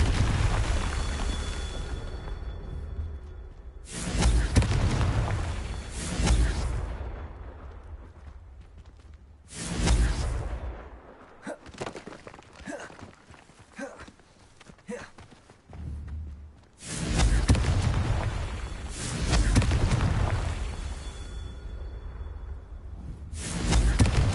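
Spell blasts from Hogwarts Legacy, including Confringo, land as several loud booming impacts with long rumbling tails. They come in separate bursts, with quieter clattering in between.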